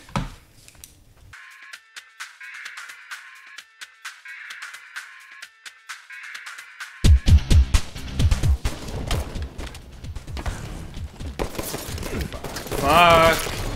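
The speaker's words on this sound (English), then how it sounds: "Dude, there's so many people shooting at me." Heavy gunfire from Halo 5 Infection multiplayer: a dense, loud burst of many shots that builds after a quieter stretch with beeping game tones, then continues mixed with booms and game effects.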